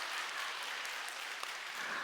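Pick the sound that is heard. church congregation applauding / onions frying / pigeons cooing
church congregation applauding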